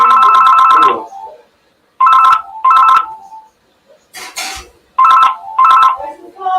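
A telephone rings loudly and close by in an indoor room, sounding in repeated double bursts of a bright electronic tone separated by short pauses.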